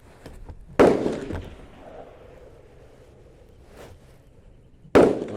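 Two loud, sharp rifle shots from a Remington 700P at a shooting range, several seconds apart, each a sudden crack with a decaying echo, close by and with no talking.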